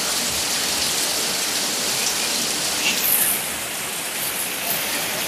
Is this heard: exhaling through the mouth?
no